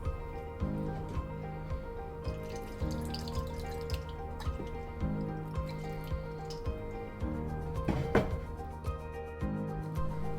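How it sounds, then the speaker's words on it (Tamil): Water trickles and drips into millet dosa batter in a mixer, splashing and squishing steadily close up, with faint background hum and no talk. "கொஞ்சமா நான் தண்ணி சேர்த்துக்கிறேன்"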